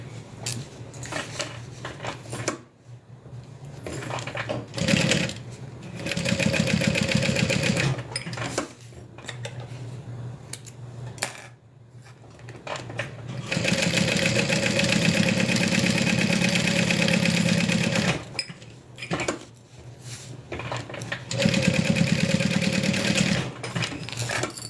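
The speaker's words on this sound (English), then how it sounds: "we're just going to sew down the bottom, the side, the bottom, and then back up the side" A sewing machine stitches the bottom and sides of a fabric wristlet, running in several sustained bursts of rapid needle clatter separated by short pauses.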